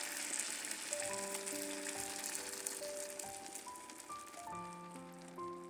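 Cabbage buns pan-frying in a covered pan after starch water is poured in, a steady close sizzle and crackle running throughout, with faint tonal ringing layered over the frying.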